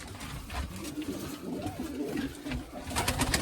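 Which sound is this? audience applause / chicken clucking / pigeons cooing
pigeons cooing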